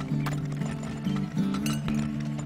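Horse-drawn wagons in the video game Turmoil clip-clop steadily, the hoofbeats running close and continuous over a sustained, droning mechanical hum.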